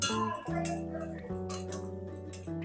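Metal utensil clinks and scrapes against a pan as amudi fish curry with chillies is gently stirred, with a few soft taps spread over a steady ringing tone.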